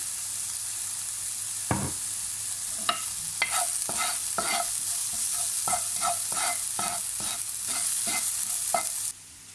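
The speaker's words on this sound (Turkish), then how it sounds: "Biberlerimi de içine ilave edip sotilemeye bırakıyorum." Peppers and green onions sauté in a pan with a little salt: a constant hiss of frying broken by a series of sharp utensil taps and scrapes at irregular intervals.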